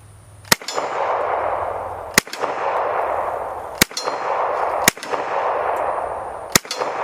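Five sharp gunshots ring out at an outdoor range, each followed by a metallic clang from a steel target downrange, spaced irregularly a second or two apart, loud and with no talking.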